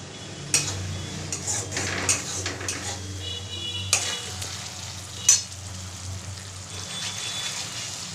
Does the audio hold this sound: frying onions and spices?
yes